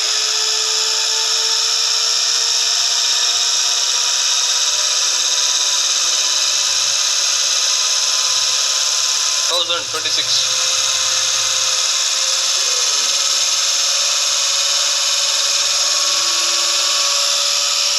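An electric motor runs at its rated 1900 rpm during a lab regeneration test, holding a steady high-pitched whine with one brief disturbance midway.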